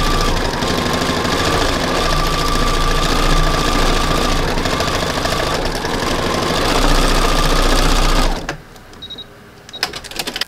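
Sewing machine stitching thread painting into a fabric beach landscape, running loud and steady with a rapid mechanical whir for about eight seconds before stopping, followed by a few faint clicks.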